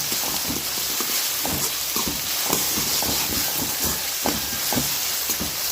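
Onions sautéing in a pan for paneer bhurji, a loud continuous sizzle and hiss with frequent scraping stirs in an irregular rhythm, close and steady, with no talking.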